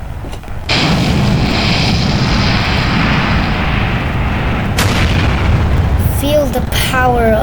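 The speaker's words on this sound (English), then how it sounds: "Feel the power of those mainsail engines" In the game Kerbal Space Program, a rocket lifts off on mainsail engines and solid rocket motors: a sudden loud roaring blast swells in after a moment of quiet and holds steady, with brief electronic tones near the end.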